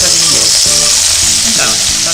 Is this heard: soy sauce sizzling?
yes